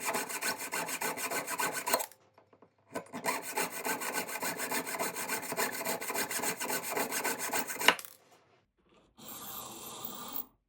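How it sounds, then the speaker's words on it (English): A letter E pendant is ground down with a rasping, filing-like scrape in long steady bursts, stopping briefly at about two seconds and again near eight seconds, then resuming in a thinner, lighter pass. It is close and continuous, with no talk. "We're going to start grinding away"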